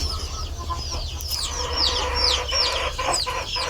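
A hen brooding eggs on her nest clucks softly and repeatedly over a constant low hum, with short chirpy calls scattered throughout.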